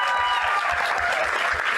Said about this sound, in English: So can we just give a round of applause for the Toontown Rewritten team?